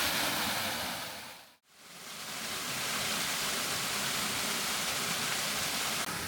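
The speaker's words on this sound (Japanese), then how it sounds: "こちらの小屋の前にはですね、滝があります" A waterfall in front of a small hut at a shrine on the grounds of a large hot spring hotel in Nasu roars as a steady broadband rush, with one brief dropout before the constant wash resumes.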